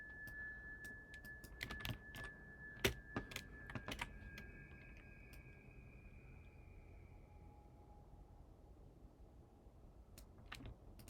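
Keyboard shortcuts typed on a computer keyboard: a cluster of sharp, close key clicks in the first four seconds, then sparse taps near the end over a quiet room with a faint tonal hum.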